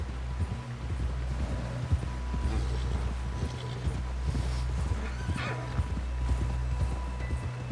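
A horse's hooves clip-clop steadily at a fast pace with creaking tack and an occasional whinny in Red Dead Redemption 2, close and continuous beneath a low rumbling game backdrop.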